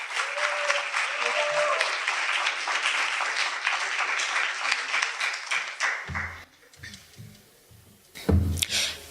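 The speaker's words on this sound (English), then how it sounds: "So I'd like you to all shayi zandla, gakulu, clap your hands for Catherine Constantinides." Audience applause at a leadership event, dense clapping for about six seconds before it tapers off, then a short burst of clapping near the end. Voices talk faintly underneath.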